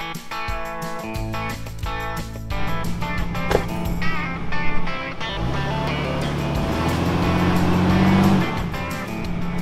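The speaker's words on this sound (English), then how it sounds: "Lizzie, will you drive the Jeep right around the front of your tie?" A Jeep being driven during a vehicle recovery, with engine and motion noise swelling and shifting pitch alongside other mechanical sounds, moderately close.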